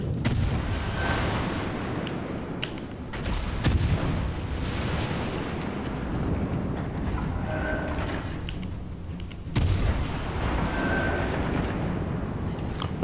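Heavy naval guns boom in World of Warships: Legends, loud broadband blasts at the start, around the four-second mark and again near ten seconds over a constant rumbling sea-battle din.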